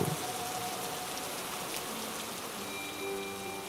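Heavy rain pours down in a steady, dense hiss of drops striking surfaces, loud and continuous throughout with no voices.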